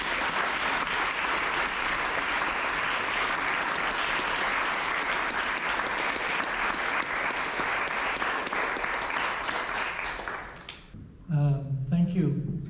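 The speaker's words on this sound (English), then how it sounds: "you deserve a second round of applause" A seated audience gives sustained applause after a talk on eating disorders, dense, steady clapping that fades near the end before a speaker begins talking.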